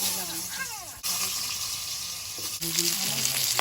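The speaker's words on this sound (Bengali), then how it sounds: "আলুটা একটু লালচে করে ভেজে নেব" Potatoes frying in oil in a wok make a steady sizzle with a couple of sharp shifts, while faint voices murmur in the background.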